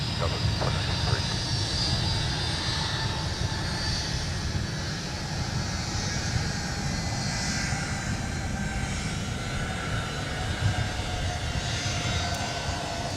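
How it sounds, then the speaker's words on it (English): A Delta Boeing 757-300 jet departing MSP airport, heard as a steady, loud, broad engine roar that holds throughout without fading, with faint voice chatter in the background. "Here's Delta 2809 headed off to San Francisco with the Boeing 757-300."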